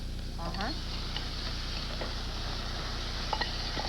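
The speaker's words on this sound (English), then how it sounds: "give that a good stir" Garlic and shallots sizzling in a pan as they are stirred, a steady close frying hiss with light utensil scrapes, a voice faintly present underneath.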